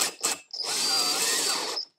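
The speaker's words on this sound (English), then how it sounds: "All I've gotta do is drill and tap this hole to accept a 7/16 by 14 bolt." A power drill bores a hole into a camshaft gear for a 12-valve Cummins diesel: a brief whir, a short pause, then a sustained loud, close grinding whine of about one and a half seconds that cuts off abruptly.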